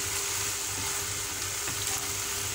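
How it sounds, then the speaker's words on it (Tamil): Chicken gravy with curd sizzles and bubbles steadily in a pan while being stirred, with a soft, continuous frying hiss close by. "தயிர் போட்டதுக்கப்புறம் நல்லா சுண்டுற வரைக்கும் நீங்கள் இப்படி கிண்டிக்கணும்."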